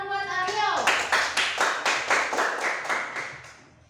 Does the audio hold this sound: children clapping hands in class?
yes